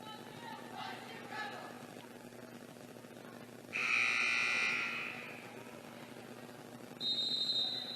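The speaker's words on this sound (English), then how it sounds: "15-second buzzer" A basketball shot-clock buzzer sounds during a girls high school game, Brush at Weld Central, as a loud sustained electronic tone of about a second and a half over steady gym crowd noise, followed later by a shorter tone.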